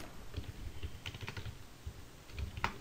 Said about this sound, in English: When I type wheel into the console, it does this commands here